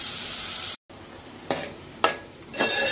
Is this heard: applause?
no